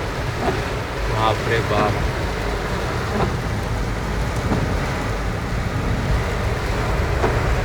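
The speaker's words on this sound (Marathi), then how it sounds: "खूप जास्त पाऊस आहे, खूप जास्त" Heavy monsoon rain pours down on a village trip from Kalyan to Kolhapur, a dense, constant roar that fills the scene, while a voice briefly exclaims over it.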